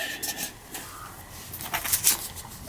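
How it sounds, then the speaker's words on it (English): A decal nameplate is rubbed firmly onto the fuel tank of a 1962 NSU Quickly N 26 moped, giving short, soft, uneven scuffing and squeaky rubbing strokes close by with brief pauses between them. "I'm just attaching the Quickly to the tank, and I'm rubbing it as much as I can to get it to adhere to the tank"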